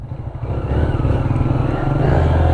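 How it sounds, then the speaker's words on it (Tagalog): A motorcycle rides across sandy ground at Dicotcotan Beach in Palanan, Isabela. Its engine swells after a moment into a loud, close, steady throbbing labor. "Kasi nahihirapan yung motor nila sa buhangin."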